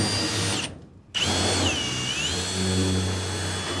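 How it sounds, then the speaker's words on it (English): A power drill cuts a 10-inch hole into an HVAC duct return: a steady, loud motor whine broken by a brief pause, then resuming as the pitch sags under load and recovers. "So now I'm going to be doing a 10-inch hole into the return that we're going to hook the vacuum up to."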